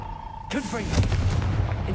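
A Confringo fire spell goes off in the video game Hogwarts Legacy: after a quiet tone, a sudden loud blast bursts in halfway through, with booming rumble and sweeping whooshes trailing off.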